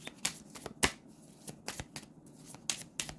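Tarot cards shuffled by hand during a love reading: a rapid, irregular series of crisp riffling snaps and flutters, close and fairly soft, with no voices.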